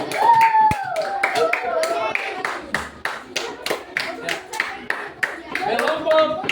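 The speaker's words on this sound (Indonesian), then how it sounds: "tepuk tangan untuk kelompok Happy" Children clapping for a group in a fourth-grade classroom, loud close rhythmic hand claps in a steady beat with some voices mixed in around them.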